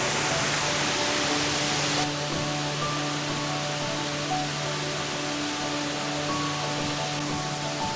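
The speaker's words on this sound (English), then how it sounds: "This is a different waterfall to the north." Waterfall in a Kanchanaburi national park in western Thailand, a steady, loud broadband rush of falling water filling the whole clip.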